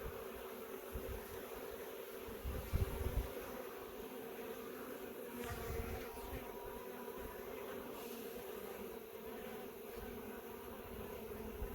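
Honey bees swarm out of an opened hive during an inspection. Their buzzing is a steady, even drone all the way through, with a few soft handling knocks near the start.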